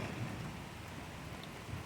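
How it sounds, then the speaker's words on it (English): Steady rain falls at night, a continuous broadband hiss with a low rumble beneath it, even and unbroken for the whole stretch with no voices. "Look at this rain at night."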